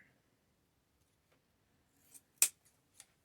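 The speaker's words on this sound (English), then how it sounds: "I think I'm going to just go ahead and trim this right here." Scissors trim craft material for a Valentine's Day swag, giving a few short, crisp snips near the end of an otherwise quiet stretch.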